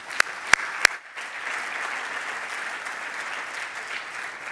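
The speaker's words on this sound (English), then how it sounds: "Let us give our speakers one more round of applause" An audience at an annual meeting's youth session gives the speakers a round of applause, steady clapping throughout with a few sharp claps at the start.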